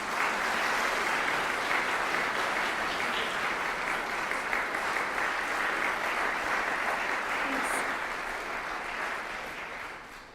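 Sustained audience applause in a university lecture hall welcoming a physics lecturer, a dense steady clapping from a large crowd that holds for about ten seconds and fades slightly at the end.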